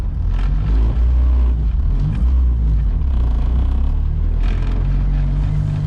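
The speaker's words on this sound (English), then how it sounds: "I can hear a dust shield rattling like a motherfucker, rubbing on the rotor" Loud, steady engine and road rumble inside a moving car, a Honda EK sedan with a 5-speed, with faint metallic scraping and rattling from a dust shield rubbing on the brake rotor mixed into the drone.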